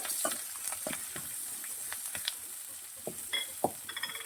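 Onion and curry leaves frying in oil for buttermilk upma, a soft steady sizzle with scattered crackles and a few sharper pops, heard close with no voices.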